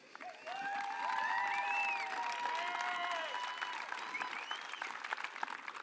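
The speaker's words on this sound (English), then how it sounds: "Big hand of applause." Crowd at a women's rugby match between Glendale and San Diego Surfers applauds two departing players, sustained steady clapping with some cheers and whistles, slightly distant and continuing for several seconds.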